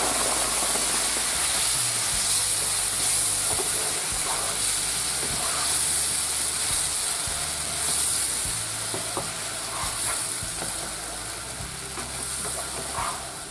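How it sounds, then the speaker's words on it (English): A hot pan of butter hisses and sizzles steadily as sake infused with saffron is poured in, a continuous bright frying crackle that fades slightly toward the end. "And we're going to add immediately the sake with the saffron and the Kampot pepper"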